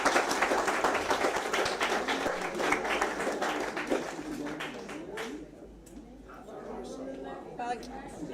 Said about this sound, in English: A big round of applause for both Lynn and Teresa for their work